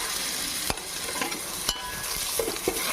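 Ginger garlic paste frying in a pan for Hyderabadi bagara rice crackles with a continuous close sizzle, broken by a few sharp scraping strokes of a spoon stirring it.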